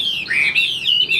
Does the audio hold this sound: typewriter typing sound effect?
no